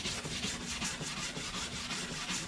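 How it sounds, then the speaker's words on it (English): A charred wood surface from shou sugi ban burning being scraped, giving a steady, close rubbing rasp in repeated quick strokes with no talk. "I don't know which way to scrape."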